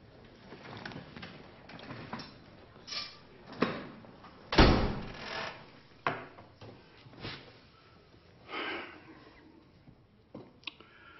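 A door shuts indoors in a police drama, one sharp heavy thud standing out amid scattered softer knocks, shuffles and room movement, fairly near.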